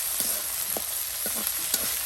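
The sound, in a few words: spice paste being sautéed (kasha) in a pan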